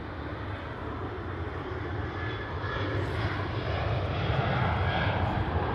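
A Ryanair airliner departing Manchester Airport roars in a broad, steady jet rumble heard from a distance, swelling slightly louder over several seconds, with no talk.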